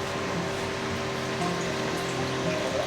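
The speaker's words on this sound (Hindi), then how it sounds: "बारिश हो रहा है बाहर" Rain falling outside in Gangtok, Sikkim, a soft continuous hiss with a steady low hum beneath it, fairly even throughout and with no talking.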